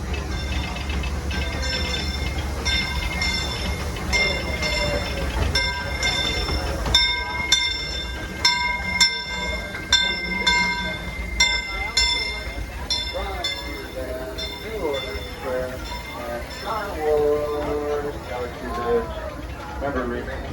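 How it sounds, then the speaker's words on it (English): Disneyland Railroad steam train running on the Grand Circle Tour, a steady rumble of wheels and rail clatter with bell-like tones, heard from aboard under a narrator's voice and passenger chatter. "Welcome aboard the Disneyland Railroad."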